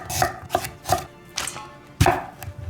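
A small apple being chopped with a knife on a cutting board for vegan kimchi seasoning: six crisp, separate knife strikes at an uneven pace, close and clear with no talking.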